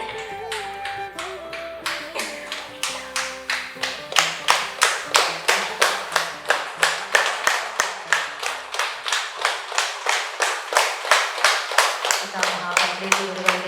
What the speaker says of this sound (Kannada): ಜೋರಾದ ಚಪ್ಪಾಳೆ ಮಾತ್ರ.